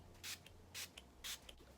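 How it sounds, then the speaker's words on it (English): A cucumber setting spray mist is pumped onto a made-up face in three quick, soft hissing bursts, close and fairly quiet, each lasting a fraction of a second with short pauses between. "I'm just going to go in with some Cucumber setting spray."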